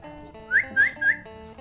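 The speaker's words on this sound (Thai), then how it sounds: "ต้องผิวปาก" Three short rising whistles in quick succession, each a bright upward-sliding tone, against a quiet background.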